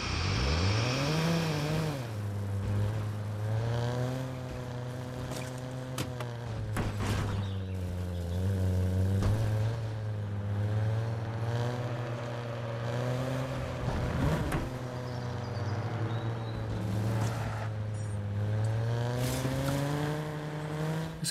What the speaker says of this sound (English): Car definitely sounds like one of those RC cars.